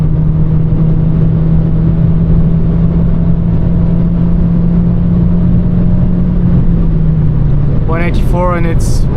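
A 2024 Mercedes CLA on kick-down at high speed on the autobahn gives a steady, loud cabin drone of engine and road roar. Someone speaks briefly near the end.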